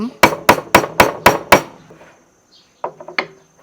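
A hammer striking metal while chasing a pattern into niello ware at a craft workshop in Nakhon Si Thammarat: six sharp, evenly spaced ringing blows, then a pause and a few lighter taps.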